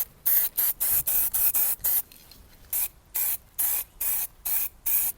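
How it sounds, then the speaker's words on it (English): Primer is sprayed as a second coat onto the side of a cheap BMW, heard as about a dozen sharp, loud hissing bursts in an uneven rhythm with short pauses between them. "Now the second layer of primer on the other side."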